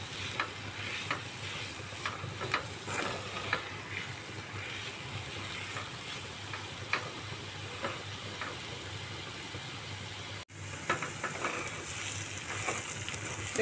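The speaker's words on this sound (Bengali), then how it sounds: "এবার আলু পটলটাকে মশলার সাথে ভালো করে মিশাতে হবে।" Potato and pointed gourd stirred and fried with spices in a pan, a continuous close sizzle with a spoon scraping and stirring in irregular strokes, no voices.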